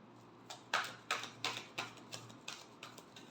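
Tarot cards riffled and tapped in a final shuffle, a run of about eight crisp papery clicks at a steady pace, close and fairly quiet with no voice over them.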